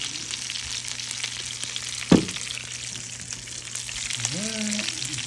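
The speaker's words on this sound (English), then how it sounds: "Just getting the mushrooms and onions in the bottom." Mushrooms and onions frying on a griddle for green chili burgers, a continuous close sizzle with one sharp metallic clank of a spatula midway and a brief faint voice-like tone near the end.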